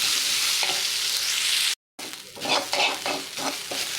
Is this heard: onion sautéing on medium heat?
yes